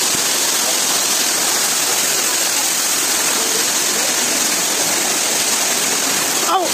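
Lope de Vega falls pours with a loud, continuous roar of rushing water that fills the whole moment and drowns out everything else.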